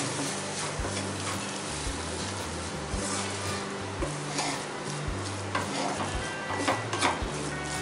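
A spoon stirs a chicken Russian kabab mixture, spiced with cinnamon powder, in a pan. The scraping strokes are rhythmic and repeated over a gentle sizzle, close and fairly quiet.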